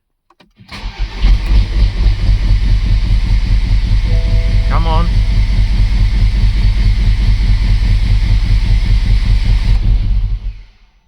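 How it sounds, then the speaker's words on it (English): A newly installed engine in a BMW Z4 E89 cranks and catches, then keeps running rough and uneven for about ten seconds, loud and close, before cutting off; a voice speaks briefly partway through. "It sounds very rough, and it's working rough"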